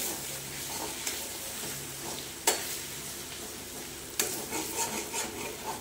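Ginger paste and turmeric being stirred and fried in a pan, with a steady close sizzle and occasional sharp scrapes of a spatula against the metal, heard alone.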